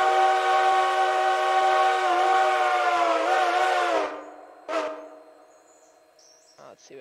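An Alco 5 chime steam locomotive whistle mod in the train game Railroader blows one long, loud, harmonious chord for about four seconds, then stops, followed by a short second toot and faint trailing noises.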